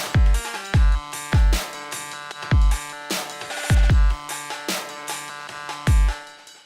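A wide synthesizer patch from an Elektron Syntakt plays in a groove of heavy bass kick hits and bright sustained chordal tones, pulsing in a repeating pattern, loud and with no voices.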